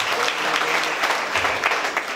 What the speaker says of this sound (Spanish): Y a las fuertes palmas al Rey de Reyes y Señor de Señores.